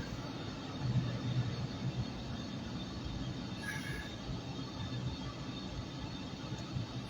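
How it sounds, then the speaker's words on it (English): A train in Chicago rolls past close by with a continuous low rumble and rattle, fairly loud and steady, with a brief higher squeal partway through and no speech. "There's a train is right next to us."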